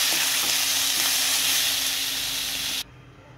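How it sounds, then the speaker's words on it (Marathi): Masala with tomato and ginger sizzles loudly and steadily in hot oil as it is stirred close up, the frying cutting off abruptly near the end. "लालसर झाला त्यामध्ये टॅमॅटो टाकते, आलं पण टाकते आता आणि ते हलवून घेऊया"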